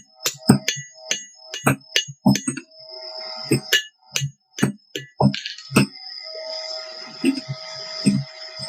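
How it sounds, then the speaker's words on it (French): A small blacksmith's hammer forging a door, striking metal in a steady run of bright, ringing clanks, close and loud, with brief pauses between the bursts of blows. "Petit marteau pour faire la porte."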